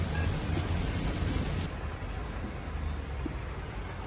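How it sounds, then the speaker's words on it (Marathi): Heavy monsoon rain falling over Mumbai's western suburbs, a continuous broadband wash of downpour with a low rumble beneath and no voices. "दृश्य मुंबईतल्या पावसाची।"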